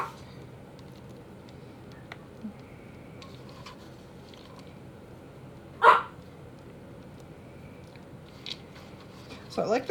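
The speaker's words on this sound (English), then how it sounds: "Sorry, my dogs." Pet dogs barking indoors during home baking: one sharp, brief bark in the middle and another short burst at the end, over quiet room noise.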